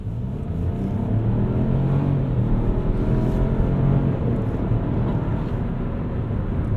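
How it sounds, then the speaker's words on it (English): A 2021 Chevy Trailblazer making an aggressive launch from inside the cabin, a steady low engine drone building under acceleration alongside road noise, continuous and moderately loud with no talking. "we're going to try one more time doing a little aggressive launch here"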